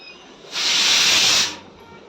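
Eggplant fritters, beguni, sizzle in hot oil with one loud, steady hiss that rises abruptly, holds for about a second, then fades back to a low background.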